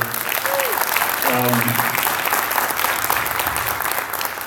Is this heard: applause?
yes